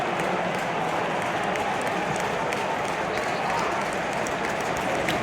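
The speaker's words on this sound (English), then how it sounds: "You know it's bad when an opposing player is getting applauded." A stadium crowd at a Leicester home match against Newcastle United applauds the opposing goalkeeper after a save, producing a steady, dense wash of clapping and crowd noise that holds for the whole stretch with no clear voice on top.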